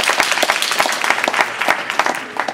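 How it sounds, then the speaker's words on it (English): Members at a Toastmasters district conference business meeting clap after a motion passes, brisk, close applause with individual sharp claps standing out. "Give us an applause, please"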